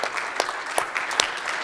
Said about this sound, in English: Please give a warm applause to the winner, Martin Toft